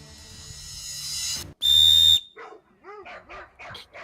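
A shrill blast from a 3D-printed death whistle cuts off, then neighborhood dogs bark and yip in quick, uneven bursts, loud and fairly close, with no talking.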